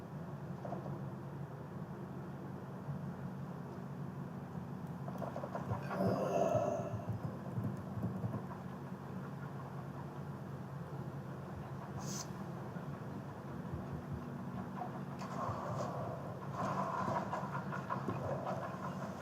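An elevator in the video game World of Warcraft rides downward with a steady low mechanical rumble and drone, broken by a few faint clanks and a brighter metallic tick midway.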